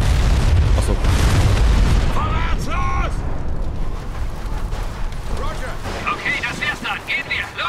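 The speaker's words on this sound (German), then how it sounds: "Granate, Granate!" A grenade blast in the shooter game Crysis Warhead opens with a loud, deep boom and rumbling debris for about two seconds, then fades into gunfire, mechanical whines and voices talking over the battle.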